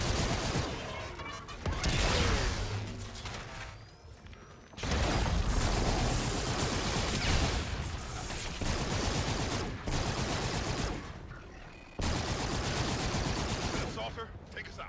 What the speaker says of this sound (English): This is one of the light machine guns, I'm guessing.